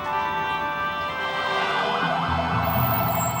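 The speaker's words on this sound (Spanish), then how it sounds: "Sirenas de las patrullas de la policía y los carros de bomberos aturdían la ciudad" Police patrol car and fire truck sirens wail together across a city, several overlapping tones rising and falling continuously over a steady traffic rumble, loud and close, with no talking.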